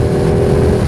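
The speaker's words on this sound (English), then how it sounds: "the noise the engine makes when you open that throttle" A Ducati 959 Panigale engine growls steadily as the throttle opens at low speed, a loud, close, sustained drone with a constant pitch across the short burst.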